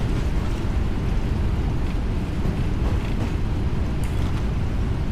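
Jet thrust reversers roar on a PMDG Boeing 777-300ER just after touchdown at Antalya in the Prepar3D flight simulator, a steady loud broadband rush with low rumble lasting throughout, no voices.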